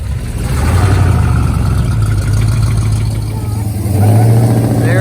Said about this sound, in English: There goes the street legal race car.